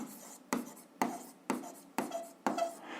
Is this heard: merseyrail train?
no